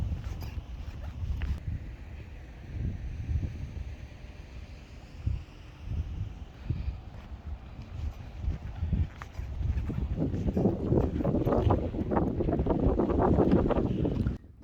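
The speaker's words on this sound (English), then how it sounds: "The wind was really beginning to pick up" Strong gusting wind buffets the microphone on an exposed coastal walk beside Morecambe Bay, a steady low roar swelling into heavier rumbling gusts toward the end, with no voices.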